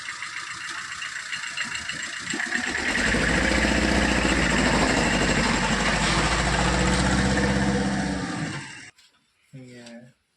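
A rice mill machine runs with a steady, loud mechanical drone that swells after a quieter start and holds for several seconds before cutting off near the end, with voices talking in the background.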